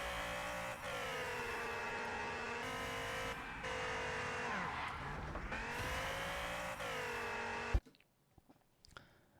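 A race car with NOS boost roars through a corner in the Wilder World racing game, its engine whining steadily with tire squeal and shifting pitch before cutting off abruptly.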